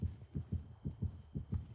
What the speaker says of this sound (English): That's what the heartbeat was.